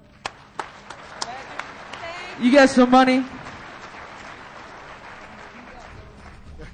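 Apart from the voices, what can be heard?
conference audience applause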